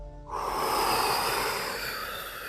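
A single long, breathy exhale during a lower-body stretching routine, rising sharply after a brief quiet start and trailing off slowly, close and fairly loud with no talking.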